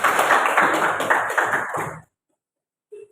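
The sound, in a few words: applause in a classroom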